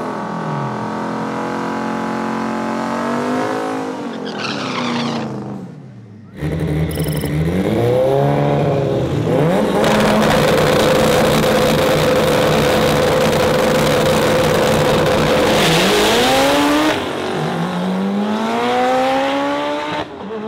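An 800 hp AWD B-series Honda Civic and a 950 hp Terminator Cobra Mustang, the Mustang launching on boost off a two-step, roar loudly as they rev hard, shift and pull away close by, with tires squealing as the engines fade and return.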